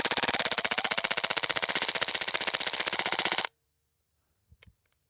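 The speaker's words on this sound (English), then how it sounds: "we're just gonna mag dump just for fun" An Umarex/KWA Beretta PMX gas blowback airsoft gun fires a full-auto magazine dump: a loud, rapid, unbroken stream of sharp shots for about three and a half seconds, then abrupt silence and a couple of faint mechanical clicks.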